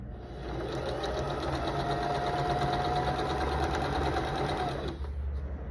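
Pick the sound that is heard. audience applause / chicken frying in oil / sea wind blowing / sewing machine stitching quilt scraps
sewing machine stitching quilt scraps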